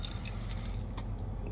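An old key works in a truck door lock with metallic jingling and scraping up close, the rattle trailing off after about a second.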